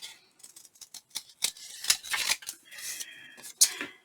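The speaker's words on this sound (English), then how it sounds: "I just get a better trim by holding my scissors kind of at an angle as I'm cutting." Scissors snip through paper card during fussy cutting, held at an angle, giving a string of short, crisp close-up cuts of uneven rhythm with a couple of sharper clicks, with no talk over it.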